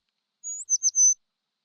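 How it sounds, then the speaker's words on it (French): A single bird gives a short, clear high-pitched call: a thin whistle followed by a few quick chirps, isolated against silence. "Oui, un oiseau."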